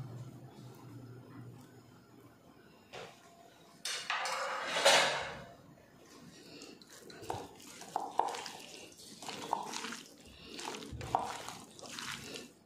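Raw chicken mixed by hand with ginger garlic paste in a pan, giving soft wet squelches and sloshing with clinks of dishes, near and loud in bursts between quieter stretches.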